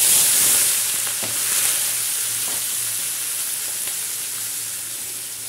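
Hot oil sizzles steadily for aloo baingan, a close and even frying hiss that fades slightly over time, broken by a few soft utensil knocks, with no voices.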